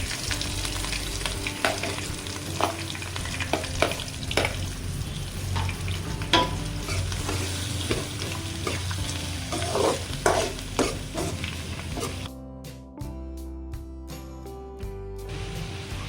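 Onions fry slowly in a pan on medium flame for chicken curry, a steady close sizzle broken by scraping stirs, dropping to a quieter, muffled hiss near the end as the pan is covered.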